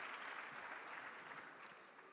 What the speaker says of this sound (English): a big round of applause to all of them, please.